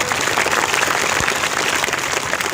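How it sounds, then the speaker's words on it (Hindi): Loud, dense applause from a crowd at a political rally in India, steady clapping filling the space without pause. "जोरदार ताली बजा के स्वागत करो।"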